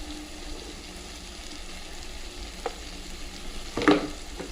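Banana flower curry cooking down in ghee with garam masala and sugar, a soft, low sizzle while it is stirred, with a couple of sharp spatula knocks against the pan near the end and no speech.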